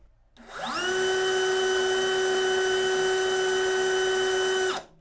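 A cordless DeWalt or Ingco impact drill spun up during an RPM test: a quick rising whine settling into a steady, loud high-pitched motor hum with a strong tone, held for about four seconds before cutting off abruptly.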